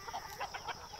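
Desi chickens and roosters on a farm, clucking in several short, soft bursts close by against a steady background hum, with no voices during the brief moment.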